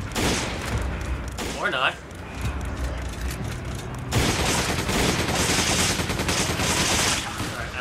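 Gunshots in Resident Evil 5 ring out as a rapid mechanical fusillade through a busy game mix, with a burst of louder firing in the second half and a voice speaking briefly over it.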